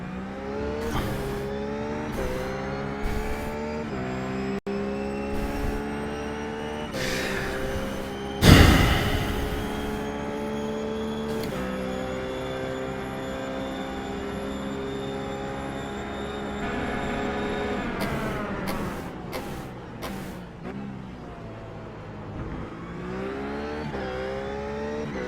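A RUF GT3 race car at COTA in the iRacing sim, its engine droning steadily with rising and falling revs, punctuated by quick downshift blips and a sharp bump midway, loud and continuous with no talk.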